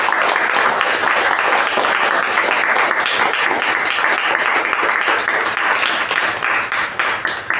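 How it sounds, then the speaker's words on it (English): Dense applause from a club meeting audience celebrating contest winners, a steady wash of many hands clapping close and loud throughout, tapering slightly near the end. "Let's all give them a huge round of applause"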